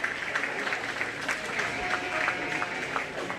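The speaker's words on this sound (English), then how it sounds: "To give Nora a big round of applause." Spectators at a 4-H and FFA sheep and lamb show give a steady round of applause for a first-place production lamb, a dense, even patter of clapping echoing in an arena.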